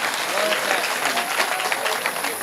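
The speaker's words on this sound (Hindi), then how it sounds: "एक बार तालियां बजा दो यार" An audience at a Hindi-language poetry mushaira in Kalamnoori, Nanded, claps steadily for a couple of seconds, moderately loud, with a voice speaking over it.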